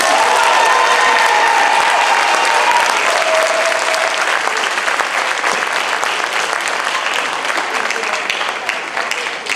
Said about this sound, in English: We have one more round of applause for the concert band